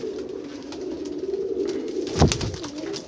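Golden red-eyed pigeons cooing close by, a low murmuring coo running through the clip with a brief louder flutter or call near the end.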